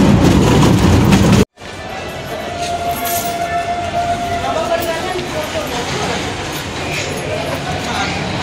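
A train rumbles steadily through a railway station, a continuous loud clatter and roar after a brief cut, with people talking over it.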